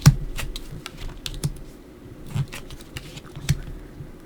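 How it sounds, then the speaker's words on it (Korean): Tarot cards being laid out and turned over for a weekly horoscope reading, a series of soft, sharp taps and flicks spaced irregularly, close and alone. "타로 카드 열어볼게요."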